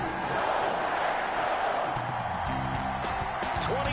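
Stadium crowd noise at Lambeau Field ahead of a Minnesota Vikings versus Green Bay Packers NFL game in a PS4 football video game: a steady, dense roar of many voices with faint shouts and chant-like tones rising near the end.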